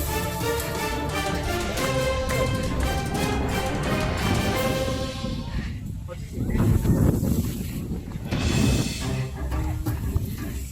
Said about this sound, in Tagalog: Sarap ng hangin. Wow! So windy.